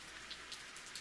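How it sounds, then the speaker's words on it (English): Rain falling in a 90s dystopian immersive sim video game: a faint, steady hiss of rain with scattered soft droplet patters, heard alone without talk. "He's out here enjoying the rain."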